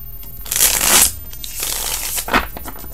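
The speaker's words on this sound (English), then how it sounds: "this is the last shuffle" Tarot cards being shuffled by hand in a brisk, papery riffle, with a loud burst early on followed by softer continuous shuffling and a second sharp flurry near the end, close and alone.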